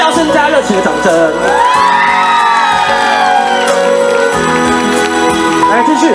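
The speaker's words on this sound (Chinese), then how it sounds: "给自己一个尖叫声加热情的掌声" A concert crowd at an outdoor tea-picking song festival in Miaoli screams and cheers loudly and continuously, with high whoops rising above a steady roar.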